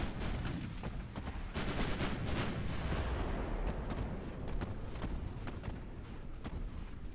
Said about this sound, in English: just look at how many hits I'm landing from the secondaries, from the small guns